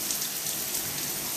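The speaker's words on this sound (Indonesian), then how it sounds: "Akhirnya alhamdulillah Dubai turun hujan guys, alhamdulillah." Heavy rain in Dubai, a dense, steady hiss of drops hitting surfaces, close and continuous throughout with no voices.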